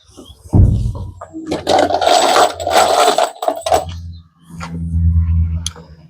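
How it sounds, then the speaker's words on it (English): A power drill drives screws into wooden roof decking boards on a small 8x8 tin-roofed build: loud, close bursts of whirring and grinding, one after another, separated by brief pauses. "Let me put a couple screws in there real quick."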